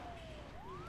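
A faint, brief ambulance siren wails in the SimCity 5 city-building game, its tone dipping and then rising again over low background hum.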